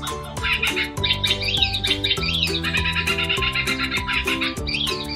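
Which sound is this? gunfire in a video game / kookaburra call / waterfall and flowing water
kookaburra call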